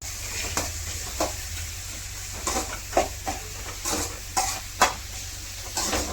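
Onions frying in oil give a faint, low sizzle broken by soft, intermittent scrapes of a spatula stirring the pan, heard up close in a quiet kitchen.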